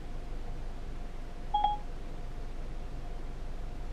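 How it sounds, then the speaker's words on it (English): A single short dialing beep from Apple CarPlay in a Kia cuts through faint steady cabin hiss, placing a phone call with no voices over it. "So let's try making a phone call."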